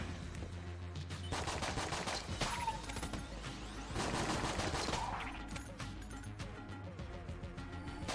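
Rapid gunfire from an arsenal of guns in the bullet-hell dungeon crawler Enter the Gungeon, dense overlapping shots and bursts that swell and fade over several seconds, with no talking.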